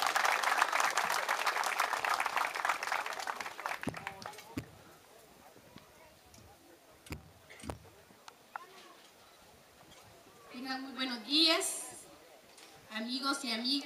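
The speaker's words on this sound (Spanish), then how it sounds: "Recibámosla con un fuerte aplauso" An outdoor crowd at a political speech during a football tournament claps warmly for a few seconds before the applause fades, leaving scattered knocks and thumps, then a voice begins speaking.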